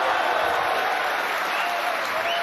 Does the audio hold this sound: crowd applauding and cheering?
yes